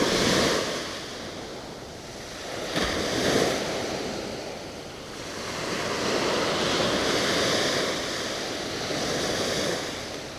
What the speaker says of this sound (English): Some nice waves though